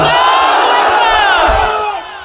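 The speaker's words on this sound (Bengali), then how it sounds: "এই যে আল্লাহু আকবার স্লোগান দিয়েছেন" A large crowd chants the Allahu Akbar slogan in unison, a loud, sustained roar of many voices close by that swells and then trails off.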